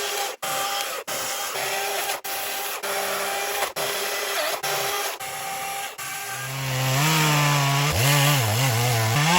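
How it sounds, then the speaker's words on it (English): A small Mighty Mite chainsaw engine runs nearby in an open meadow, its buzz broken by repeated brief cutoffs, then revving up into a higher, wavering whine. "This is my dad's little Mighty Mite chainsaw."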